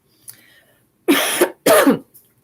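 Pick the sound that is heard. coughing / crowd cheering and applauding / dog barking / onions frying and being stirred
coughing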